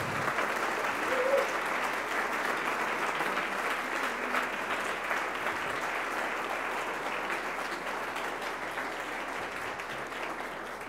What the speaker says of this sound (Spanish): Quisiera invitarles a dar un otro aplauso mucho más fuerte a, a Teo.